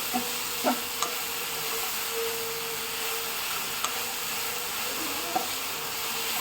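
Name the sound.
stirring jaggery and ghee mixture in a pan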